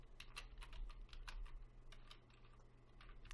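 Fingers type C code on a computer keyboard in quick, uneven bursts of soft, close key clicks, faint and steady, with no voices.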